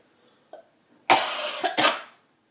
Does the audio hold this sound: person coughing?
yes